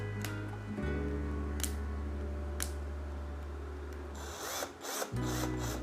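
Izom battery-powered screw drill running in screw mode, a steady motor whine that holds for several seconds, briefly dips near the end, then restarts, fairly quiet and close with no talking.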